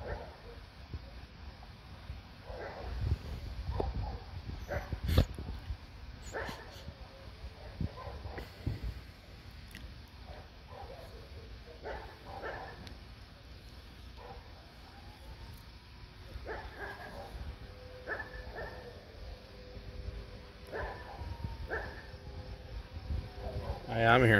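Ray, a dog, barks a few scattered times outdoors on a Fourth of July night in Kingman, Arizona, with distant fireworks popping and people talking throughout.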